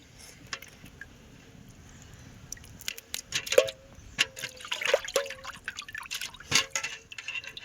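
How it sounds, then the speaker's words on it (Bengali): Prawns being washed by hand in a bucket of water outdoors, with irregular splashes, drips and sloshing that grow busier and louder after a quiet start, heard alone without talk. "এই যে বালতির মধ্যে জল নিয়ে এখন ধুচ্ছি চিংড়ি মাছটা।"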